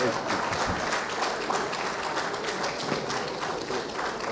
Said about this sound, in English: I believe we can make the applause a bit louder for the Honorable Minister of Environment.